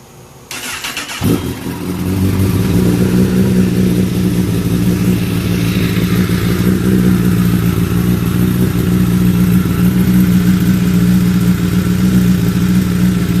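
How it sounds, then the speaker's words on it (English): A Honda CBR1000RR sport motorcycle engine cranks and fires after an oil change, then settles into a loud, steady idle that runs on close by with no talking. "All right, let's crank it up."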